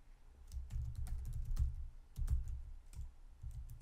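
Rapid, irregular keystrokes on a computer keyboard while JavaScript code is written, fairly close and steady with brief pauses, no talking.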